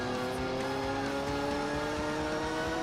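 Lotus race car in the Gran Turismo 4 video game, a steady high-pitched engine drone at sustained speed, loud and continuous with shifting tonal lines, heard alone without talk.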